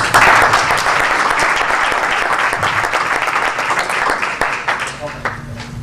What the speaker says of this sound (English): Thanks, I appreciate the applause